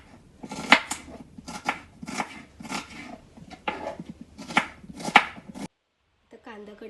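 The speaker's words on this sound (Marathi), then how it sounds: "आता कांदे सोलून धुवून घेतलेले आहेत. आता कट करूया. लांब लांब कट करून घ्यायचे." A knife cuts peeled onions into long slices on a board for matar paneer. The brisk rhythmic chops come in close bursts, then stop, followed by a brief voice at the end.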